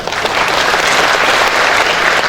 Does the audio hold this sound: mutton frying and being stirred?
no